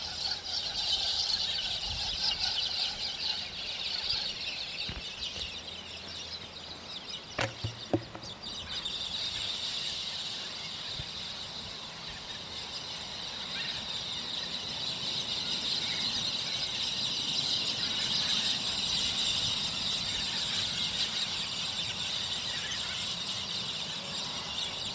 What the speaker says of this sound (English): I could just sit here listening to those birds all day.